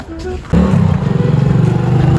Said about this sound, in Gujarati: કોઈક બાઇક વાળો આવે એવું દેખાય છે લાગે હો